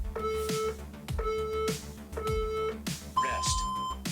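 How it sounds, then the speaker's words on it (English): A workout interval timer sounds four evenly spaced electronic beeps. The first three share one pitch and the fourth is longer and higher. They ring clearly over a rhythmic music track. "Just listen out for the timer."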